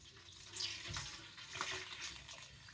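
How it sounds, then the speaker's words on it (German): Tap water runs into a cooking dish after an air fryer meal, a faint, steady splashing with gentle surges, heard alone without talk. "Ich gebe schon mal Wasser rein."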